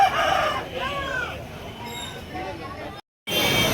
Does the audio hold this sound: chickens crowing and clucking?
yes